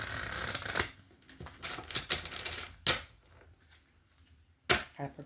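Tarot cards being shuffled by hand in a quiet room: bursts of crisp riffling and slapping, separated by short pauses, close and fairly soft.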